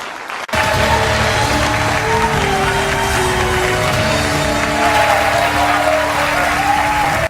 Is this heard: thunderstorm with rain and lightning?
no